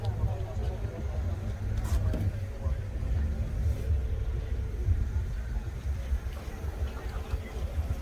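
A 1998 Mercedes with a 2.8 engine idles at a used-car market, giving a steady, close low rumble that runs the whole time with faint voices in the background.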